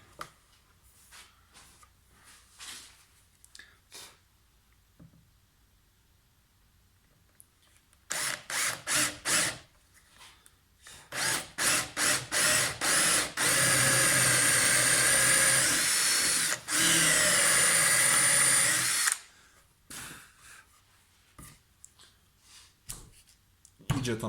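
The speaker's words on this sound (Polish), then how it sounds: "Teraz będziemy wiercić otwory pod nasze punkty świetlne." A power drill fitted with a CMT bit bores holes into a hanging kitchen cabinet, with several loud bursts of whirring and cutting separated by pauses, the longest lasting several seconds, and quiet handling noises between them.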